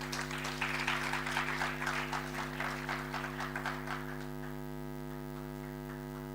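Audience applause at a university debating championship in Kampala, a burst of clapping that fades after about four seconds, leaving a strong steady electrical hum underneath.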